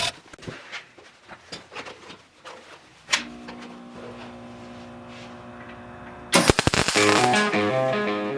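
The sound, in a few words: welding the mini bike ski wear bar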